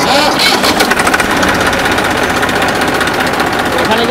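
A TAFE tractor engine runs loud and close, its rapid rhythmic diesel chatter steady throughout, with a brief rougher burst near the start.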